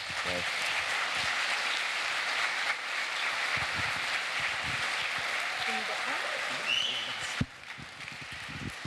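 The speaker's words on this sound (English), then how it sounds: "can we give a round of applause for the man?" Applause for a man at a charity developers' event supporting an epilepsy classroom, a steady broad patter of clapping filling the room for several seconds before cutting off sharply near the end.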